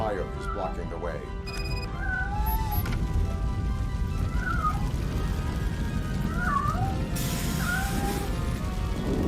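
A cat meows repeatedly, with several drawn-out, wavering cries spaced a few seconds apart, in the video game Robocop: Rogue City. The cries sit over a dense crackling, rumbling background like fire, with a crash near the end.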